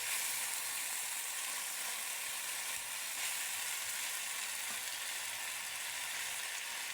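Chicken frying in a wok, a continuous even sizzle with faint stirring underneath, moderately loud and close, no talking.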